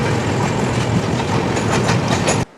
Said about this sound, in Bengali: বালাসোর থেকে ভদ্রকের মধ্যে ননস্টপ চলবে আমাদের সমুদ্রকন্যা এক্সপ্রেস 62 কিলোমিটার